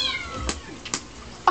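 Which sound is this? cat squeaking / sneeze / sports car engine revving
cat squeaking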